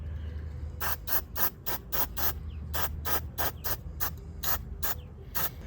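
White spray paint goes onto a deer skull for a European mount in short, sharp aerosol bursts, about fifteen hisses in quick uneven succession, close and loud over a low background hum.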